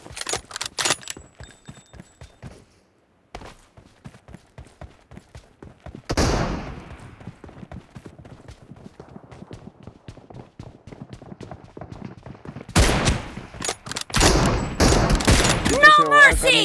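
Gunfire in PUBG Mobile during a one-versus-two sniper match: rapid, sharp shots crackle in dense bursts, pause briefly near the start, then return heavier and louder toward the end, with some voices mixed in.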